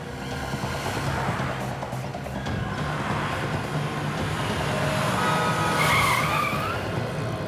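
A taxi car arrives and skids to a stop: steady, loud engine and road roar throughout, with a brief tire squeal rising near the end.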